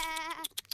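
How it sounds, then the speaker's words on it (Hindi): A single sheep bleats close and clear in one brief wavering call, followed by a few soft scattered knocks and noises as it ends. "इस बार मैं सुदामा की नाक के नीचे से ये सारी भेड़ें चुरा ले जाऊंगा।"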